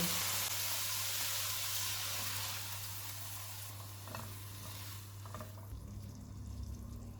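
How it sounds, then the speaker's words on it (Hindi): Water poured into a pan of sizzling keema spiced with red chilli and salt on a lowered flame: a loud hiss and frying crackle that gradually eases, with a steady low hum underneath throughout. "इसमें 1 कप पानी डालेंगे।"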